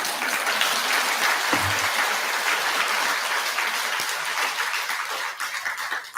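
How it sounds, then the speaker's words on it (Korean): Sustained audience applause at a Buddhist temple's Buddha's Birthday Dharma service, a dense wash of many hands clapping that holds steady and thins slightly near the end. "박수를 자꾸만 치니까 재미가 있죠"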